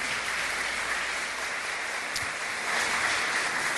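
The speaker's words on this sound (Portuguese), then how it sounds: "dê um aplauso bem forte para o Senhor" Congregation applause at a collective church wedding ceremony, a continuous wash of many hands clapping at moderate distance, steady from start to finish and swelling slightly toward the end, with no voices over it.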